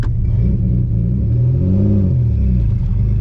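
Turbocharged 3800 V6 engine in a Camaro, revved with the throttle, a loud close deep rumble rising and falling in pitch across a single sustained rev.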